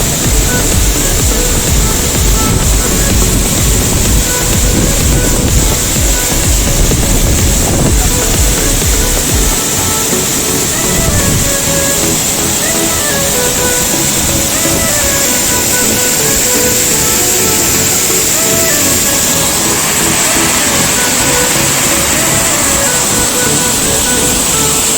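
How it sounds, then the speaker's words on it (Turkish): A loud, steady roar of a 30-metre seasonal waterfall with ice around it, crashing water filling the scene with dense, unbroken noise and a deep rumble underneath throughout. "30 metrelik şelalenin altındayım."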